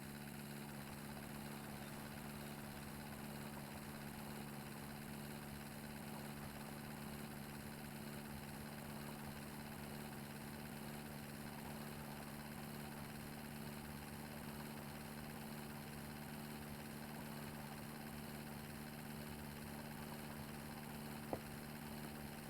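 A car engine idles off throttle in The Long Drive video game, a steady, low, quiet hum that holds the same droning tone without change throughout, with no voices.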